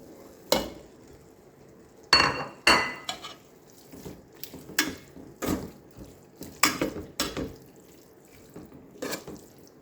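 Mutton keema cooking: pieces of mutton dropped into a pan, giving several distinct clattering and sizzling bursts, close and fairly loud, with quiet gaps between.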